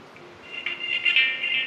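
A phone's ringback tone sounds after a number is dialed, a steady electronic ring that swells in over about a second and holds moderately loud, with no voices over it.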